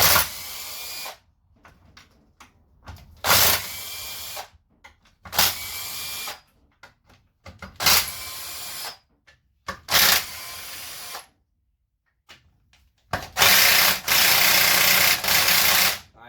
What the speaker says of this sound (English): We're going to take our main case bolts out. They're all 14s.